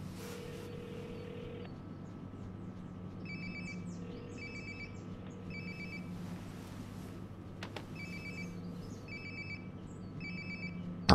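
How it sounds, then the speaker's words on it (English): A cell phone rings repeatedly in Life Is Strange: Before The Storm, a steady electronic ringtone in regular bursts over a constant low room hum, moderately loud throughout. "God, sounds like my phone is definitely nearby."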